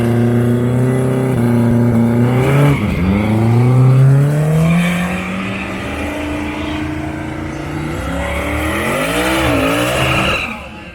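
Mike Berger's Volvo race car revs hard on a racetrack at a Roadkill Nights event, a loud, close engine note sweeping up and down in pitch for several seconds before fading slightly at the end.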